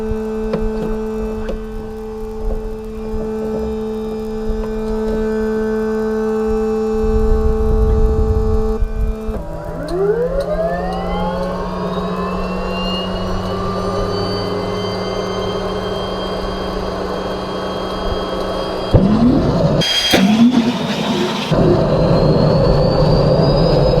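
A turbine engine in a radio-controlled P-51 model plane runs through its start sequence: a steady hum gives way to a loud whine that climbs and then holds high, with a brief rough burst near the end.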